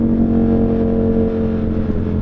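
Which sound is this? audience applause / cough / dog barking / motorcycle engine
motorcycle engine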